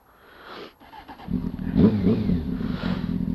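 A motorcycle is switched on and its engine starts, then settles into a steady, close idle with a low rumbling throb that continues to the end.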